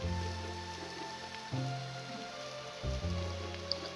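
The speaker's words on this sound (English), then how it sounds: "Und der Regen kehrte zurück." Rain falling in the video game Eternal Eden, a steady hiss of drops under in-game music with sustained tones that shift partway through; no one speaks.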